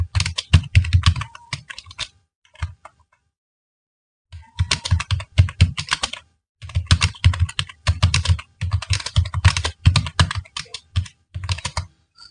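Someone types on a computer keyboard in short bursts of rapid key clicks, with brief pauses and one longer silence between the runs, close and clear with no voice over it.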